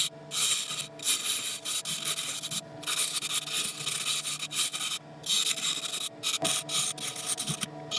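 A tool rasps repeatedly against an African mahogany bowl as an inlay groove is cut, steady close scraping strokes broken by short pauses, loud and alone.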